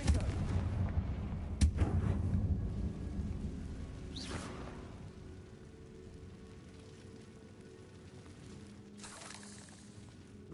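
A Confringo spell in Hogwarts Legacy goes off as a heavy booming blast with a sharp crack, then a low rumbling tail that slowly fades over several seconds, with fainter whooshing effects following.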